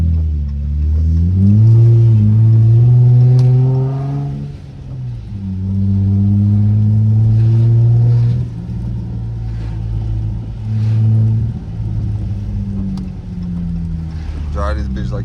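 A straight-piped Dodge SXT's engine revs loudly from inside the car while driving in the rain, with a deep rumbling exhaust rising and falling through repeated pulls and people talking over it.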